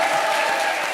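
A comedy show audience breaks into a brief, dense burst of applause and crowd noise, loud and steady for about a second.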